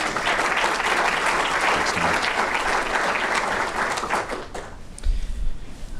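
Audience applause at a Conference of State Bank Supervisors gathering, a dense steady clapping from a large room that fades out after about five seconds.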